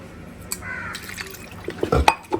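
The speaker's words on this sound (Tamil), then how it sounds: "அப்படி தண்ணி ஊற்றிப்பேன்" Water is poured over tamarind through a juice strainer in a home kitchen, making splashing, dripping bursts that grow livelier toward the end, with faint background noise.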